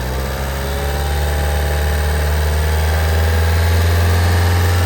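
A large vehicle engine runs under the accelerator, a loud steady hum with a strong low drone that swells slightly after the first second and then holds, with no voices.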